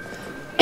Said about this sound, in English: This is like four videos in a row that I've been coughing